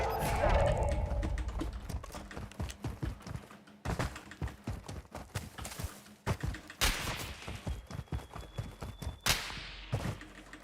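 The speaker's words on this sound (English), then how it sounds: "Those shots are at me, but they're not very good at shooting" Rapid bursts of gunfire from a Warzone 2 match crack in quick sharp volleys, fairly close and loud, scattered across the clip among other game sounds.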